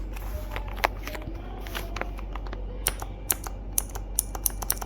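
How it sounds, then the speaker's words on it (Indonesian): A mechanical keyboard with clicky switches is pressed key by key, giving sharp, irregular clicks up close over a quiet background. "Dia sama seperti tactile namun memiliki bunyi klik yang khas dari mechanical keyboard."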